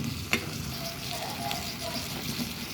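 Chicken with garlic, onion, tomato and ginger sautés in a pan, giving a soft steady sizzle with a sharp utensil tap near the start and light stirring scrapes.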